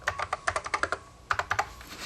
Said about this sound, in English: be able to grab the keyboard and write a note to yourself